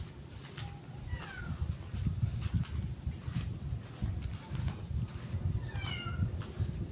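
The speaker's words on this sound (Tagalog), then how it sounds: "may pusa." A cat meows several times outdoors in Trece Martires, Cavite, short rising cries spaced across a few seconds over low rumbling background noise, fairly faint and at moderate distance.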